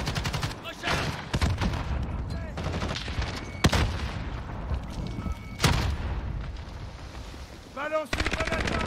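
Dense video game gunfire in Call of Duty Modern Warfare: continuous automatic weapon bursts and sharp single shots, with a few heavier booms standing out, loud and sustained with no break.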